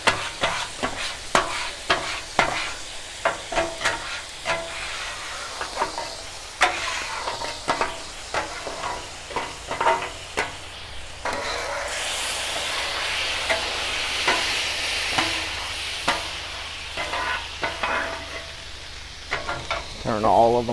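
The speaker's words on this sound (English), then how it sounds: "Scrape the griddle." A metal scraper works across a Blackstone griddle after cooking chicken hibachi, giving repeated sharp scraping strokes and clacks with a sizzling, steaming hiss in between.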